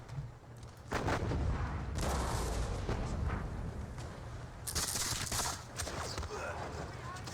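Repeated booming artillery fire and cannon blasts from a Napoleonic Waterloo Campaign war game, loud and continuous with bursts of gunfire-like crackle layered over a dense battle rumble, no speech.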